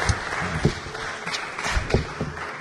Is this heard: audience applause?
yes